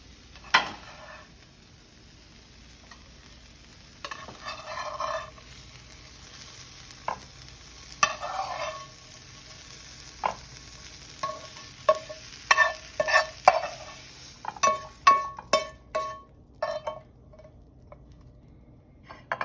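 Food sizzling in a pan set on a hot plate, a soft steady fry broken by intermittent clicks and scrapes of stirring, growing busier toward the end, heard close with no voices.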